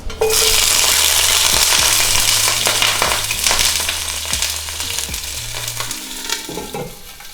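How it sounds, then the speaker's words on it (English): Broccoli and other vegetables hit hot oil in a pan, starting with a loud, steady sizzle that gradually softens, while stirring adds occasional scrapes and clinks. "turn the heat back up, and then start sauteing our vegetables"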